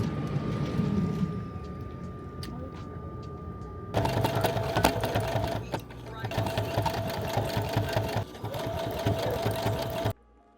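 A sewing machine runs in a converted van art studio, starting after a murmur of voice and whirring loudly and steadily with a brief pause midway before stopping abruptly.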